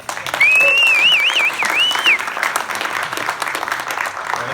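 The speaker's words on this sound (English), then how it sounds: "Let's have a round of applause for them." Round of applause from the audience at a district candidates' forum in a high school performing arts center, steady dense clapping throughout, with a faint whistle-like tone early on.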